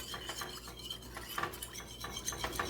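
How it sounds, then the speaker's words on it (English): Lemon meringue pie filling stirred in a pot, a spoon scraping and clinking softly against the metal in steady, repeated strokes, quiet and close with no talking. "So we're gonna keep stirring and I'll be back."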